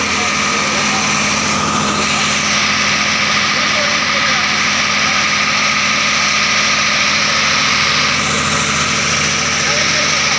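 An island-hopping boat's engine idles loud and close, a continuous droning rumble with a steady buzz that never lets up.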